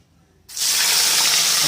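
Wheat flour batter pours into hot ghee for Tirunelveli halwa and sets off a sudden loud, steady hiss and sizzle that holds close and unbroken with no voice over it.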